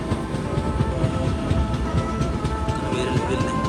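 A train rolls past close by on a foggy day, and its rumble and rattle stay loud and steady the whole time with no voices.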